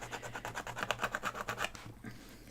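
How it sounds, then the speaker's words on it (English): Ballpoint pen scribbling on a journal page, a close, quiet run of quick rhythmic scratching strokes back and forth, then easing off. "Sorry about the scribbling noise."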